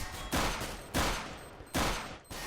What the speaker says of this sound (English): Dulcie does get a headshot to Spitfire, but he's going to be baited for this weapon now